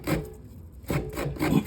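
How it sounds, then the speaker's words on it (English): Coconut scraped on a sit-down knee grater makes close, rough rasping strokes, about three bursts with short gaps between them. "I'm using a sit-down grater to grate the coconut"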